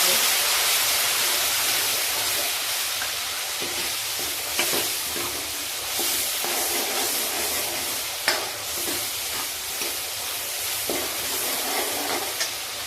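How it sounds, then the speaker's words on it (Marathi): Chili-garlic paste frying with turmeric in a pan gives a steady, loud hiss and sizzle, broken by occasional stirring clinks and scrapes throughout. "त्यामध्ये मिरची लसूण यांचं केलेलं वाटण टाकणार ते चांगली परतून घेणार"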